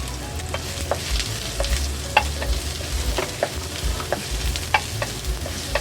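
Chopped ginger fries in a little oil in a pan, giving a steady close sizzle broken by repeated scrapes and clinks of a utensil stirring.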